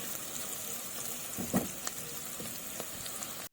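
Sausage frying in a pan with onions, tomato, colored peppers and garlic for sausage pasta gives a steady close sizzle, with a brief louder crackle burst in the middle, then stops abruptly.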